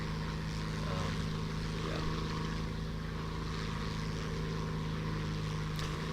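A slow propeller-driven bomber in the War Thunder game, cruising off the south coast of England: a steady, unbroken engine drone with a deep hum and a constant airy rush, holding level throughout.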